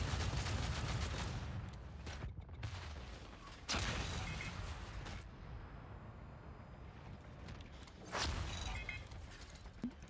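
Tank cannon fire and explosions in the World of Tanks video game, loud bursts of gunfire repeating in clusters over a continuous rumbling battle din, with no voices.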